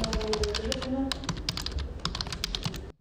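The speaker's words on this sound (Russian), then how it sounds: "Звуки ударов пальцев по клавиатуре и печатающего принтера привычные для стен информационки" Fingers tap quickly on a computer keyboard in a newsroom, a close, busy run of crisp keystrokes with a low background hum that stops abruptly at the end.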